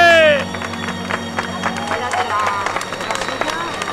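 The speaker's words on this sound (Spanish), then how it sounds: "Un fuerte aplauso." A festival audience claps and cheers after a brief musical sting, a crowd of scattered hands and voices continuing as a lively, moderately loud patter.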